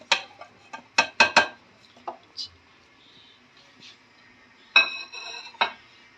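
Two kilograms of mutton go into a degchi cooking pot, making a run of sharp metallic clunks and knocks. Brief clattering bursts come close together, then pause before a few more.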